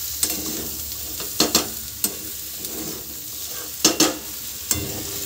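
Mixed vegetables with broccoli are stirred and fried in a wok, giving a steady close sizzle broken by sharp scraping clatters of the spatula against the pan at irregular intervals, with no talking.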